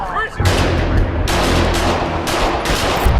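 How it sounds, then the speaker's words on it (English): Gunfire from a mass shooting at a public pool during a birthday party in California, caught on camera: a rapid burst of loud, sharp reports in quick succession, crackling and harsh, filling the space after a brief quieter moment. "cameras caught a mass shooter opening fire at a public pool during a birthday party"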